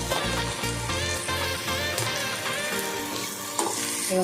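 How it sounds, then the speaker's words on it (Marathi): Spice masala of red chilli powder and home-made masala sizzles and fries in a hot pan while being stirred, with steady crackling and scraping over a background melodic music track, no talk. "मसाला चांगला हलवून घ्यायचा चांगलं फ्राय करायचं"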